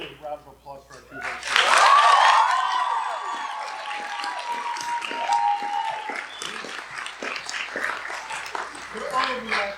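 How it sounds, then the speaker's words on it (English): Loud audience applause mixed with cheering and shouts at a Tens by Teens event, swelling after a voice speaks and continuing in a thick, sustained wash for several seconds. "We get a round of applause for our people."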